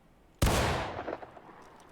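A single musket shot fired from a standing position in War of Rights, a sharp loud crack followed by a rolling echoing tail that fades over about a second.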